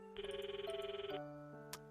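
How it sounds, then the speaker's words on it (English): A phone ringing during a call in the visual novel game Akatsuki no Goei plays as a bright electronic ringtone: one quick, warbling melodic ring, clean and alone. "It's ringing, so I guess he eventually will."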